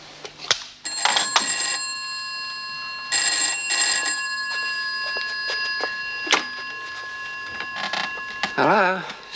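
An old-fashioned telephone bell rings in repeated bursts with clicks and rustling between rings, and a voice speaks briefly near the end.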